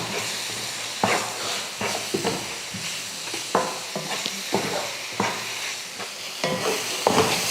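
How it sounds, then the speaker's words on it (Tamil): A spoon stirs egg curry masala with chilli powder, turmeric, curry leaves and coriander in a pan, scraping in uneven strokes over a steady sizzle and hiss, with no talking. "இப்போ இதையெல்லாம் நல்லா கலந்து விட்டுருவோம்."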